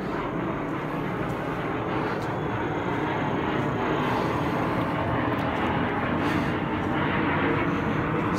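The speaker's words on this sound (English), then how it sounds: "Now there's a plane, a jet going overhead now." A jet plane roars overhead, a loud, steady broadband rumble that holds for the whole stretch and swells slightly toward the end, with no talking over it.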